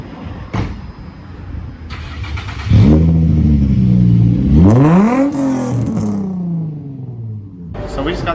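A Nissan 350Z fitted with a freshly installed loud exhaust and big single tip fires up at a Tampa muffler shop, then revs hard in a loud rising and falling sweep before settling to a deep idle, with people talking nearby.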